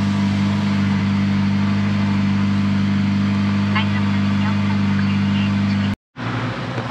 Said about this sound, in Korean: 배기 소리는 우렁차게 들립니다.